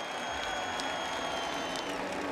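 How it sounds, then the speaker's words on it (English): Steady, distant applause from a crowd, faint and continuous throughout, with a high tonal whine running underneath. "Let's give him a round of applause."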